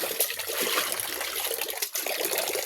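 Tap water running continuously during hand laundry, a bright, hissy splashing stream close by with a brief dip near the end.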